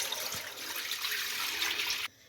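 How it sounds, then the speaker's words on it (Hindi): Water is poured into leftover masala in a pot while cooking chicken rice, a steady close splashing pour of about two seconds that stops abruptly. "ये जो हमारा बाकी मसाला बचा था इसमें हाफ के जी के हिसाब से पानी डाल दें।"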